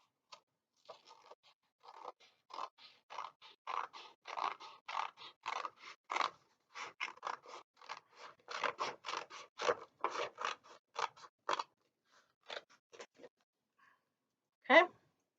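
Scissors snip a folded paper heart close by, a long run of quick, crisp cuts in an uneven rhythm with brief pauses, ending in one sharper rustle.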